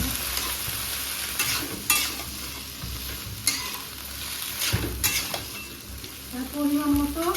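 Boiled potatoes and green chilies stirred and fried in a pan, a continuous close sizzle with repeated spatula scrapes and clinks against the pan, and a faint voice near the end.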